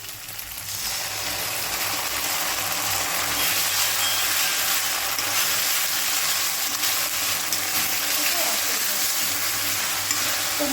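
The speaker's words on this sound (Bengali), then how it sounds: "মশলাটা আমি ভালো করে ভাজা ভাজা করবো" Steady, crackling sizzle of a ginger, cumin and garlic paste frying in a pan, with continuous stirring and scraping throughout.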